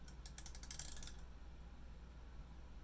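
A lock nut on an espresso machine grouphead tightened by hand, giving a quick burst of close metallic ratcheting clicks for about a second before fading into quiet room hum.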